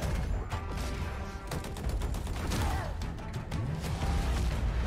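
Battle rifle fire in a Halo Infinite gameplay trailer, rapid sharp shots in quick bursts among crashes and whooshes, loud and busy throughout.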